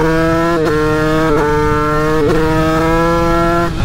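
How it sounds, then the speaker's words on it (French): A 50cc motorcycle tuned to about 30 hp warms up, its engine droning steadily and loudly with three quick rev blips and dips spread across the clip. "On fait chauffer la moto."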